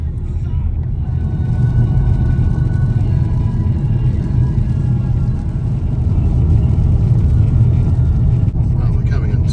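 Car driving along Highway 1 in New Zealand, a steady loud low road rumble and engine drone filling the cabin throughout with no break.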